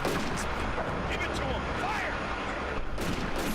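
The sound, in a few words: Italian light gun firing in video game Combat Mission: Afrika Korps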